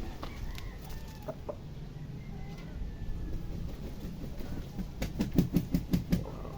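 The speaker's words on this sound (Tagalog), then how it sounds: "Manukan natin. Manukan ng ating kumpare" Chickens and roosters at a gamefowl farm cluck and crow intermittently at moderate distance, with a cluster of sharper calls building toward the end over outdoor background noise.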